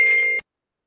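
A single short electronic phone beep, loud and close, cutting off abruptly into silence.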